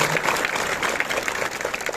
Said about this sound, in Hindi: एक बार जोरदार इनके लिए तालियां बजा दी जाए